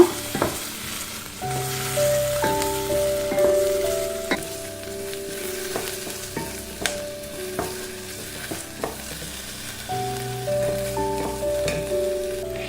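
Onion slowly sautés in a pan for a potato-cauliflower curry, a steady soft sizzle broken by regular spoon scrapes and stirring taps, with tonal music playing in the background.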